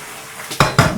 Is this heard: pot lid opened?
yes